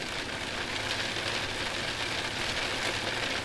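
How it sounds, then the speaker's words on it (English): Rain inside an X-Plane 12 flight simulator cockpit: an unbroken, fairly loud wash of drops over a low cabin hum, alone and without speech. "We're getting rain now."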